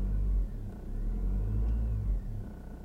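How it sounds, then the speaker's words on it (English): Car engine revving up while parked in Germany, a steady loud low rumble swelling and easing over a few seconds, close by with no talk. "Okay, just revved it up."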